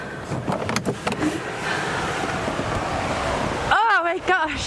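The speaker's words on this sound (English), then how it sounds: "This is very windy." Strong wind buffets outdoors in a continuous, blustery roar with gusty surges, loud and close, and a voice speaks briefly over it near the end.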